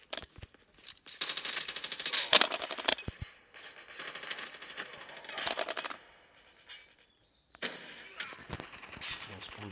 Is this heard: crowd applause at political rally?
no